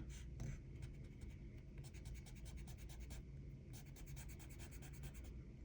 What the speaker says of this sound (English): I'm going to erase those pencil lines.